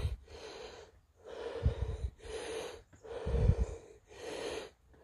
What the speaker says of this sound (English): Sorry for my breathing.